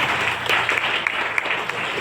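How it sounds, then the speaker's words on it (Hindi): Loud, dense applause from a seminar audience at an Asclepius Wellness business-plan event, a continuous wash of clapping with a few sharper claps poking through, close and filling the whole moment. "एक जोरदार ताली होनी चाहिए।"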